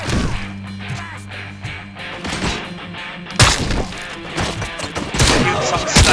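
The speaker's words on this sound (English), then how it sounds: "I'm using the shotgun here." Shotgun fire in the video game RoboCop: Rogue City, loud heavy blasts with shattering, crashing debris, a big burst about halfway through followed by more shots amid game combat noise and voices.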